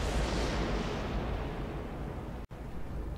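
In the Sniper Elite V2 video game, a loud blast of gunfire booms out and rolls into a long, fading echo, then a brief cut of silence falls before low rumbling returns.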